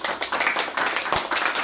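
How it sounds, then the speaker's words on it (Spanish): An audience at an educational program gives a short burst of applause for a provincial prefect, a brisk, close, rhythmic clapping with no talking. "Un aplauso, pues."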